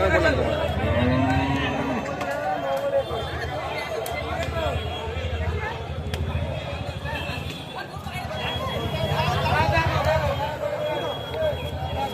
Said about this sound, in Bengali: এরকম ছোট দিশি দিশি গরু বন্ধুরা দেখতে পাচ্ছ